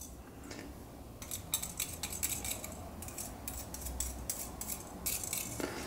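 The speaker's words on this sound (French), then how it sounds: "Avec le fouet, donc je racle." A whisk scraping and stirring pink-tinted ice cream mixture in a bowl, a quiet run of irregular metallic clinks and scrapes close by, with no talking.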